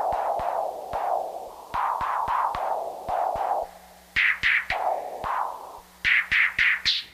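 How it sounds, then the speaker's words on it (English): Analog modular synth fixed filter bank with four outputs switched by a sequencer, alternating in a steady rhythm between low and bright filtered bands, each pulse starting with a sharp click. "I've got them alternating on a rhythm that sounds kind of like this."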